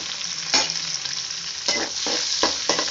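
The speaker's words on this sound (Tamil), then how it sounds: "வெள்ளைப்பூடு வெந்துக்கிட்டு இருக்குது." Chopped garlic and onion fry in hot oil in a pan with a close, steady sizzle, broken by several scraping bursts as the mixture is stirred.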